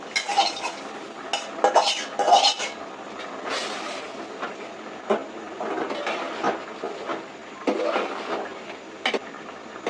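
A spoon stirs rohu fish and flat bean curry in a cooking pot, with intermittent scraping and clinking against the metal, clustered in bursts and then sparser scrapes, at moderate volume with no voices.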